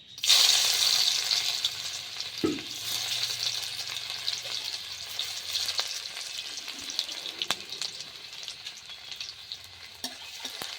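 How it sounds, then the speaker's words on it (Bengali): Chopped garlic and ginger drop into hot oil for a chilli cauliflower dish, giving a loud burst of sizzling that settles into steady frying with occasional stirring clinks and scrapes. "এখানে রসুন কুচি আর আদা কুচি আছে, এটা দিয়ে দেবো আগে, প্রথমে ওই তেলের মধ্যেই দিয়ে দেবো।"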